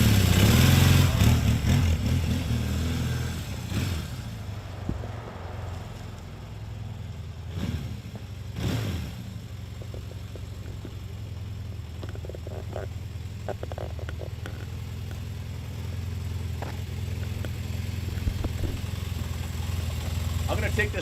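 A classic Kawasaki KZ400 400cc motorcycle engine runs steadily with a low, continuous idle rumble nearby, with a few brief clunks and handling noises over it.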